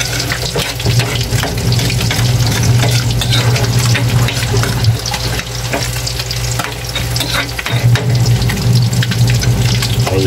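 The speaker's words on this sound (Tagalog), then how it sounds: "Balik ka rin po natin itong ating piniprito." Dalagang bukid fish fry in a pan with loud, constant sizzling and spattering, mixed with scraping and stirring and an underlying hum throughout.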